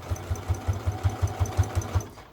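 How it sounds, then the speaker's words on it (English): Sewing machine stitching across the bottom of a wallet, a steady run of about a dozen evenly spaced thumping needle strokes at moderate volume, close and alone, then stopping. "You're now sewing the bottom of your wallet."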